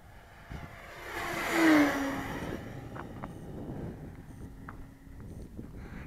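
An E-flite T28 RC airplane, 1200 mm upgraded model on a 4S pack, sweeps past at full throttle; its motor whine swells to a loud peak and then fades into the distance over steady wind noise.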